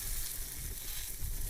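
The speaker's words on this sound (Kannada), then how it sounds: "ಮೀನು ಮಾತ್ರ ಸಖತ್ತಾಗಿದೆ, ಫ್ರೈ ಆಗ್ತಿದೆ" Lake fish fry in hot oil in a village-style pan, giving a steady close crackling sizzle with low bubbling underneath and no voices.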